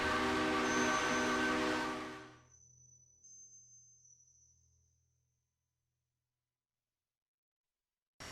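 Steam locomotive whistle, loud and sustained with rich harmonic tones for about two seconds, then cutting off to leave a faint lingering hiss and low rumble fading into silence.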